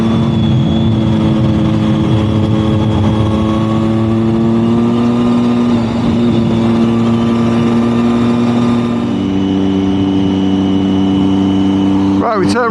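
Motorcycle cruising the A5 through Snowdonia in the UK, its engine a loud steady drone with shifting harmonic tones throughout, easing in pitch near the end, with wind noise over it.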